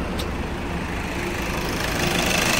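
A Skoda Laura's engine idles in a workshop with its air filter removed, a steady close rumble that keeps on evenly and grows a little louder toward the end, with no talking.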